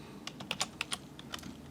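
Close, crisp keystrokes on a computer keyboard as an email subject line is typed, an irregular run of about a dozen taps with brief pauses, no talking.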